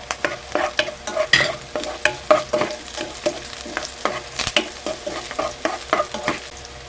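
Onion and ginger sautéing in a pan, a constant crackling sizzle punctuated by rhythmic metallic scrapes and clinks of a spatula, close up with no voices.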